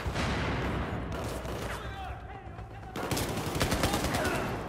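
Grenades blast and gunfire crackles in the video game Battlefield 4, with loud bursts at the start and again near the end and a quieter gap between.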